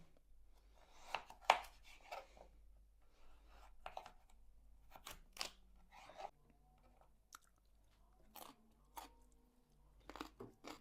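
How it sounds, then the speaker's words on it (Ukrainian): A knife slices potatoes on a board in sharp, uneven crisp chops, close and fairly quiet, separated by short pauses. "Тепер наріжу картоплю. Мабуть, теж такими скибочками."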